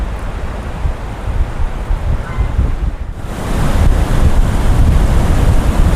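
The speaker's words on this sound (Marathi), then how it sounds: "आता सध्या भरती सुरू आहे," High-tide sea waves roll onto Murud beach, a loud, dense roar of surf mixed with strong wind buffeting the microphone, swelling louder midway through with no speech.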